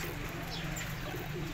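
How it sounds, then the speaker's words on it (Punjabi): Pigeons coo low and continuously at close range inside a loft in Faisalabad, among 22 birds kept as pairs. The cooing forms a dense, steady bed against background noise. "ਇਹ ਕਬੂਤਰ ਲੱਗਾ ਜੇ ਮਾਸ਼ਾਅੱਲਾ"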